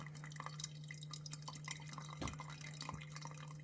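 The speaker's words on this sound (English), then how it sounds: "you could see this is definitely taking a long time to drip through" Coffee dripping slowly through a fine-mesh stainless steel pourover filter, a faint, quiet background with a couple of soft drip taps near the middle and end.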